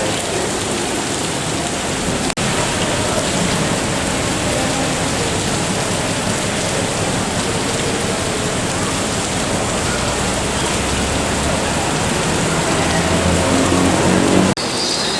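Heavy rain in Malaysia during the rainy season, pouring down in a dense, continuous hiss on nearby surfaces and holding a steady level throughout.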